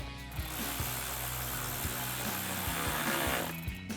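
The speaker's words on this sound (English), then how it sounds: "we're going to be using an 8mm socket and a ratchet to tighten that down" A ratchet fitted with an 8mm socket tightens a hose clamp on a cold air intake for a 2024-2026 Toyota Tacoma, giving a steady run of close, quick clicks over about four seconds with no talking.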